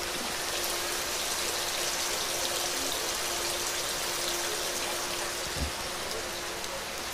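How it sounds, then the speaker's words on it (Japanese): Rain beginning to fall outside the Takayama Festival float hall in Japan, a steady, even hiss of drops across the whole stretch with one brief dull knock near the end. "ちょうど雨降ってきたよ。"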